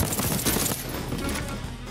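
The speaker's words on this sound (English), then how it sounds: "The guns are chunky, powerful, and cacophonously loud." Loud, rapid gunfire rattles in Deathloop, a dense burst of chunky shots in the first half that fades into echoing reverberation.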